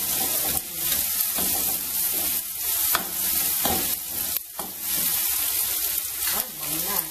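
Shrimp frying and being stirred in a hot pan for seafood fried rice, a steady close sizzle with repeated scraping and tossing strokes running throughout, no voices.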